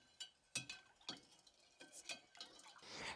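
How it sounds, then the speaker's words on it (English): Bone broth with salt is stirred with a metal spoon against a pot, giving a quiet series of irregular clinks and scrapes spaced about half a second apart, close and alone. "Give that a good stir"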